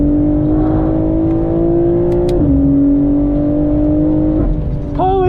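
BMW M4 fitted with a new aero kit revs hard under acceleration, its loud steady engine drone rising in pitch, dropping briefly at a gear shift around the midpoint, then climbing again with a whine near the end.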